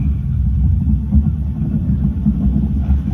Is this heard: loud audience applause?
no